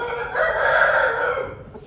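A young rooster crows once, close and clear, in a single drawn-out call that rises and then tapers off.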